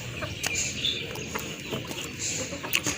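Chickens clucking outdoors in sunshine, several birds giving short repeated clucks and a few sharper calls over a steady low background hum, moderately close.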